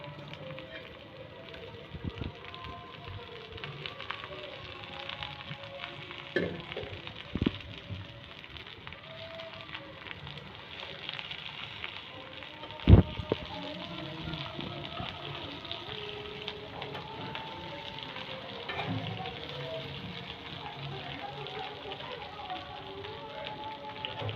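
Chopped okra frying in turmeric-yellow oil for a bhindi masala curry, a faint, continuous crackling sizzle with scattered soft clinks and one sharp knock partway through, with no talking over it.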